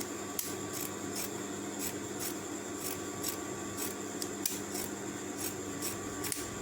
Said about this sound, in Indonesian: kalau sudah begini biasa digunting biar rapi